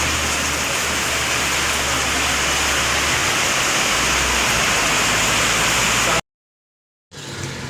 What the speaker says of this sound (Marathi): पण आता पाऊस पण चालू असतो थोडं